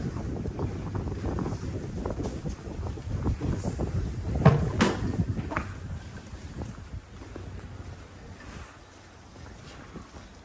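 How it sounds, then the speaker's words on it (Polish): Wind blows steadily outdoors, a broad rushing roar with gusts buffeting the microphone, the loudest burst near the middle before it eases off toward the end. "trochę wieje."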